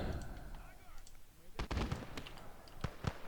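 An MG34 machine gun fires in the World War II game Surviving Conquest Enhanced. Sharp, close bursts of shots ring out after a quieter start, over rumbling background battle noise.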